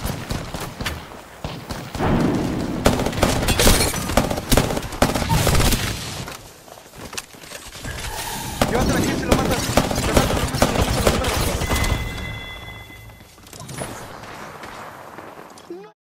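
Rapid bursts of automatic gunfire and shots in the Apex Legends battle royale game on the Storm Point map, sustained and fairly loud through most of the stretch, with a voice talking over parts of it.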